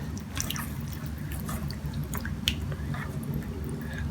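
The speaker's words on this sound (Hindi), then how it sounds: "हम इसे मसल लेंगे हाथों से ताकि छिलके सारे उतर जाएं।" Soaked garlic cloves squished by hand in a bowl of water to loosen their skins, giving a steady wet squelching and dripping with small splashes throughout, close and fairly loud with no talking.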